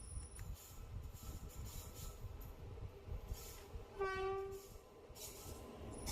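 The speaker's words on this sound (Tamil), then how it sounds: "இப்போ வரக்கூடிய இந்த ரயில் தாங்க மதுரையிலிருந்து குருவாயூர் போகக்கூடிய ரயில்." A passenger train from Madurai to Guruvayur rumbles past close by as it arrives, and a loud horn sounds once partway through over the steady roar.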